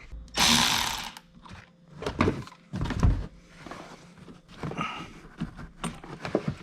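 A 10 mm socket wrench with an extension working on the battery terminal in the trunk of a C7 Corvette, with close ratcheting clicks, metallic clunks and handling knocks in uneven bursts.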